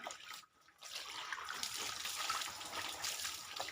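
Water pours and trickles steadily during a bath with warm herbal water for a postpartum mother, a continuous close splashing flow with a brief pause near the start and no talking.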